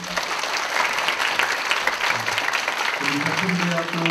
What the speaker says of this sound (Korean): 김승호 차장님께 이제 박수 한번 부탁드리겠습니다